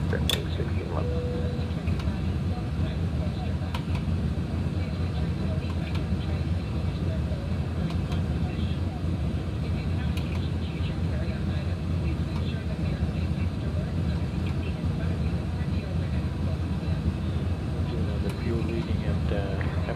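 An airliner taking off from runway 12 right in a flight simulator, a steady broadband engine roar that holds constant and loud throughout, with a brief tone near the start and voices faintly underneath.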